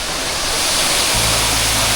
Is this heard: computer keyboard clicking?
no